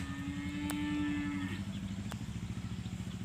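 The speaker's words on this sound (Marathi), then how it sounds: "चार गायी आहे त्या" Cows on a farm moo close by, one long low call in the first second and a half, with a steady rumbling engine-like drone running underneath throughout.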